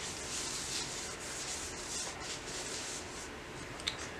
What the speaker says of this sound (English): I'm going to wipe it down with this towel